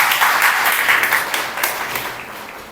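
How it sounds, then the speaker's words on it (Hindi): A church congregation claps in thanks to God during a sermon, a loud, full burst of applause that swells and then gradually tapers off. "ताली बजाकर प्रभु का धन्यवाद।"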